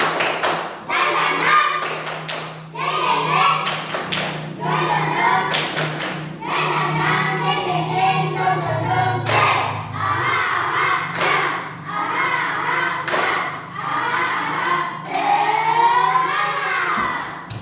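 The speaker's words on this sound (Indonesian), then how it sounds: "Tepuk semangatnya dulu. Tepuk semangat dan dingdong." Children in a classroom clap a rhythmic chant together in loud, syncopated bursts, their shouting voices and a teacher's talk mixing with the sharp claps throughout.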